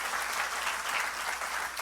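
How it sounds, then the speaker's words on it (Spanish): A church congregation at Ekklesia New York breaks into steady, loud applause, with many hands clapping evenly for nearly two seconds. "Yo creo que Dios se merece un aplauso."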